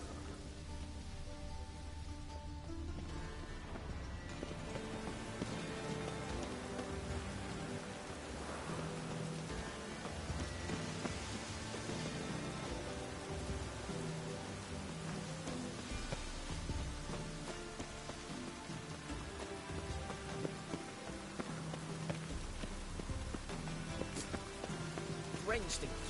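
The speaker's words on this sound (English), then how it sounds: "Rain will cleanse the city streets of filth." Rain falls steadily on city streets in The Witcher video game, a constant hiss of drops on the surfaces, with distant rumbles and faint game sounds underneath.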